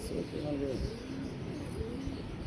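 Pigeons cooing nearby in soft, rolling low calls over a background hum, with some faint chirps mixed in.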